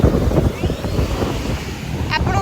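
Ocean surf washes onto a crowded beach at Puri in a continuous roar, with heavy wind buffeting the microphone throughout.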